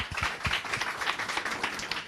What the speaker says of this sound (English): So big round of applause for the Connected TV Expert panel.